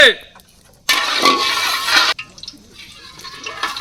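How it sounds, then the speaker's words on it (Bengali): Lentils poured into a cooking pot for jackfruit-seed pulao make a loud rushing hiss that lasts about a second, followed by quieter sizzling and stirring sounds. "ডাল ঢেলে দাও"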